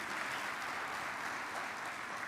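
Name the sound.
congregation applauding in church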